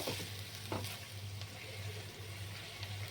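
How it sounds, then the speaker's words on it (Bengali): Spices frying in oil with a splash of water for egg shakshuka: a soft, continuous bubbling sizzle with a faint steady hum beneath and one or two light stirring scrapes, fairly quiet and close, no voices. "মশলাগুলো ভালো করে কষিয়ে নেব"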